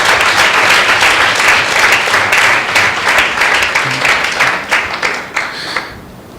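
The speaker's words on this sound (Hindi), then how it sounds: "आइए उस प्रभु के लिए एक जोरदार ताली हो जाए" A Sunday church meeting congregation claps loudly and enthusiastically, a dense burst of applause that holds for several seconds before tapering off toward the end.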